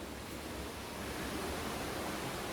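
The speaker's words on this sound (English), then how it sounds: "And right next to it is the stream" A river stream on Long Mountain, Mauritius, swollen after heavy rain, rushes as a steady, dense broadband wash of flowing water, constant and unbroken with no voices.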